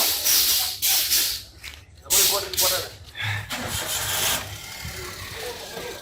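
A Kerala-registered car starts up and pulls away near roadside tea shops on the Sathyamangalam–Bannari route, its engine noise mixed with passing traffic and people talking throughout.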